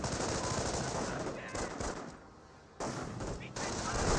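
Dense machine-gun and rifle fire in a Company of Heroes 1 battle between Grenadiers and Rifleman squads, loud continuous bursts that drop out briefly before resuming.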